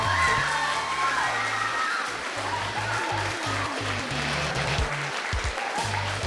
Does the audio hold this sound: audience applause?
yes